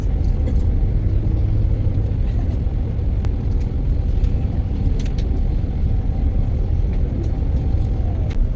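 Interior rumble of a tour bus driving from Zurich to Rhine Falls through Swiss farmland and villages, a steady loud low engine and road drone throughout with faint rattles and no talk.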